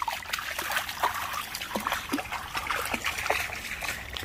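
Dog splashing and wading in deep water, a continuous wash of splashes and trickling close by, moderately loud and without voices.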